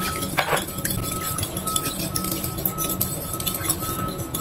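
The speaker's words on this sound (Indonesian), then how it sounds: "lalu aduk kembali." A utensil stirs instant yeast and sugar into water in a glass container, producing repeated close clinks and scraping taps against the glass in an uneven rhythm, with no talking.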